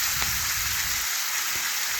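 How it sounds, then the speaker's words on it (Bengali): Small fish tipped into hot oil in a wok give off a constant, even sizzling hiss with a few faint pops, close up and alone. "এখন কড়ায় তেল গরম হয়ে গেছে, আমি মাছগুলো ঢেলে দিলাম"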